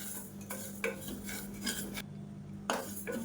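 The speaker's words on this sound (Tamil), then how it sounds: "இப்போ இது வாசனை வர்ற அளவுக்கு வறுத்து விட்டுக்கலாம்." Moong dal is dry-roasted in a pressure cooker while a spoon scrapes and stirs it in repeated, irregular metallic strokes against the pot, fairly quiet and close.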